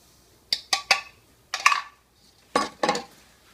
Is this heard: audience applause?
no